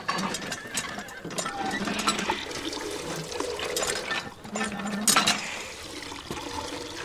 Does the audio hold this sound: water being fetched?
yes